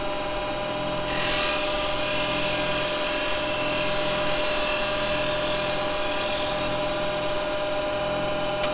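A wood lathe spins steadily with a strong, even whine, while a carbide chisel takes a tiny chamfer cut on the bottom of a small turned piece; the tone stays constant throughout, with no voices.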